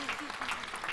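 A church congregation claps together as an offering to Jesus during a prayer service in Abuja, a dense, steady wash of hand claps with a voice calling out over it.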